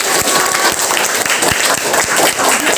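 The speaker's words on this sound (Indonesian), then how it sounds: "Tepuk tangan." Primary school students in a classroom clap together, loud and close, with a dense wash of hands and a few heavier rhythmic beats running through the whole burst.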